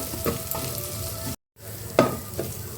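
Grated coconut with cluster beans and chilli powder sizzles in a pan as a spoon stirs it, with a few scraping strokes, a brief gap of silence midway, then more stirring and sizzling up close.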